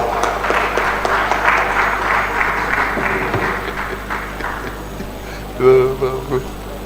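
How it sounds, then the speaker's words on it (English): An audience at an award presentation applauds a former governor of the Eastern Bar Forum, steady broad clapping that carries for several seconds, then fades as a speaker's voice comes in over a microphone. "Please, a round of applause for"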